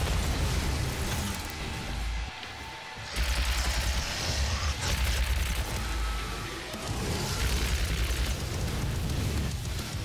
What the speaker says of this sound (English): This is a rocket launcher